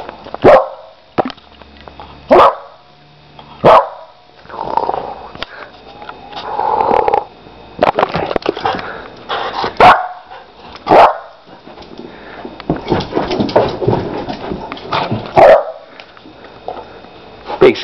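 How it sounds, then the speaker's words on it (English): A Lab and Pit mix puppy barks close by in sharp, repeated bursts, with snuffling, grumbling breaths and rustling in the gaps between barks. "Big scaredy dog."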